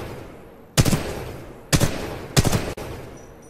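Weapon fire in Titanfall 2: three sharp, loud bursts of gunshots spaced about a second apart, each cutting off abruptly against a quiet background.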